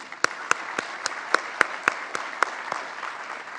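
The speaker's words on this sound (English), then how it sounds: "Let's give another round of applause for today's MC, Ivan Penn." Sparse, rhythmic clapping at a sustainability summit, a few distinct hand claps at a steady beat of roughly four per second standing out over a soft background of a small audience's applause.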